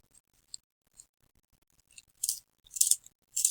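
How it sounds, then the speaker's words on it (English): A colored pencil is being sharpened: a few faint clicks, then three louder, rasping scrapes in quick bursts, close up. "watching your teacher sharpen her pencil"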